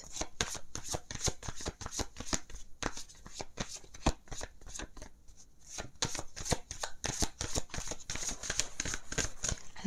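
Tarot cards shuffled by hand ahead of a seven-card spread, a dense run of quick riffling flicks and slaps repeating close up for the whole stretch, with no talk.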